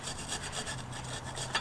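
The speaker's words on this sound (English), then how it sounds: "we're using this wire brush over here, and we're just going to go ahead and scrub away" A wire brush scrubs paint off a used brake caliper for a Nissan 350Z in rapid back-and-forth rasping strokes, close up and steady, with no talking.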